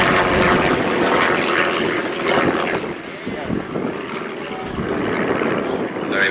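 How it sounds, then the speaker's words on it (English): A Percival aircraft powered by a 210-horsepower de Havilland Gipsy Queen 2 piston engine drones past at a vintage airshow, its propeller note rising and fading, while a commentator talks over the engine and crowd noise. "210 horsepower from the de Havilland Gypsy Queen 2 in the nose of the aircraft"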